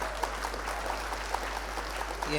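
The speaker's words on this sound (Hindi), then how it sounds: "एक बार तालियां बजा के मुझे आदेशित" An audience at a kavi sammelan poetry recital applauds in a steady, moderate wash of clapping that runs the whole clip over a low hum.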